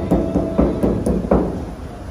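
Knuckles rap on the rusty body panel of a 2008 Chevrolet Silverado truck, about six hollow, fairly close knocks in an uneven rhythm, with no talking.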